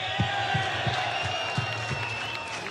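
A UFC 284 crowd in Australia cheers and applauds as a broad roar with rhythmic thumping claps pulsing through it, and voices mixed in.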